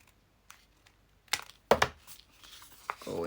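Paper being folded for a tagbook, a few sharp crinkles and creases close up, starting with faint rustles and building to louder crackles, alone without talk.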